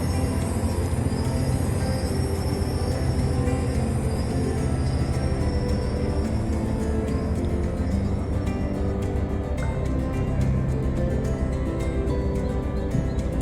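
An approaching train in the railway game Train Life gives a continuous heavy rumble with clattering wheels that stays loud and steady from start to finish, with no voices.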